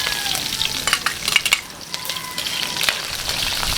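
Ginger, garlic and onion fry in a pan with a dense, crackling sizzle, punctuated by scraping stirs and occasional faint metallic clinks, heard up close and continuous.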